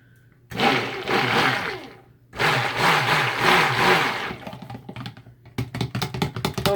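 Blender mixing blueberry macaron soap batter: two long, steady whirring runs of the motor churning thick batter, with a short pause between them, followed by rapid clicking and tapping as it ends.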